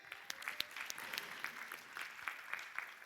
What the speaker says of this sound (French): ce que je vous propose, c'est d'applaudir très très fort les sponsors